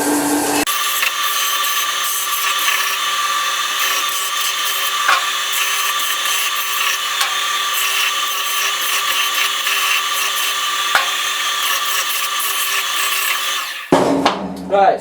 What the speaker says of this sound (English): Give these a quick sanding, belt sander.